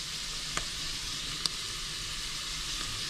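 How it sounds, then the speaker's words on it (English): Black pepper and sauce for an American-style spaghetti ragu sizzle steadily in a pan, a constant bright hiss with a few faint clicks from stirring, close and alone without talk. "definitely we will add black pepper"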